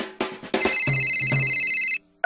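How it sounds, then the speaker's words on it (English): A cell phone rings out in a movie theater, a bright electronic ringtone that breaks off abruptly and then starts again, with some faint rustling at the start. "please take a moment to turn off all cell phones so they don't ring during the show"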